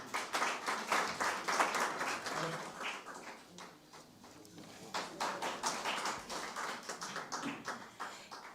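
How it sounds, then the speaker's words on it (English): Audience applause at a doctoral graduation ceremony: scattered, uneven clapping from a modest crowd that swells, dips in the middle, then picks up again, moderately loud throughout. "A big round of applause to Dr. Mayada Hader Hannah Abu Jaber"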